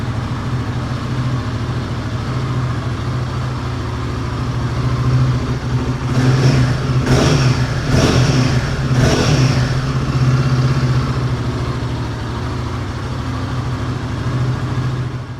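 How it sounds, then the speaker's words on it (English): A Royal Enfield Guerrilla 450 motorcycle idles with a deep, even thrum, then gets three quick sharp blips of the throttle in a row before settling back to idle. Loud and close, with no talking. "A nice deep note to that engine."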